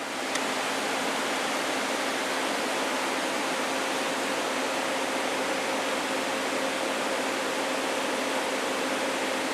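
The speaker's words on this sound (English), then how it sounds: "Somebody left the fan on" An electric fan running indoors, a steady broad whooshing hiss with a faint constant hum, unbroken throughout and fairly loud, with no voices over it.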